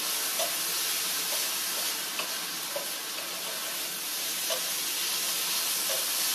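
Egg roll in a bowl with soy sauce, ginger and garlic sizzles steadily in a hot pan, a continuous crackling hiss with occasional small pops and stirring clicks, close and fairly quiet, no talking.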